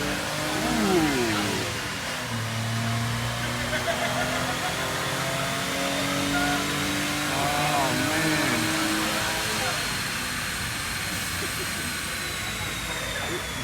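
A Smart car engine revs hard with traction control cutting in, producing a rising and falling whine under a steady wash of engine and road noise, with people talking nearby.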